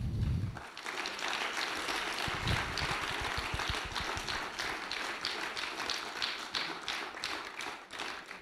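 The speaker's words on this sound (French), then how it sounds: "On vote par acclamation." Council members applaud during the installation session of a municipal council, electing its president by acclamation: steady, dense clapping sustained for about eight seconds, filling the room without pause.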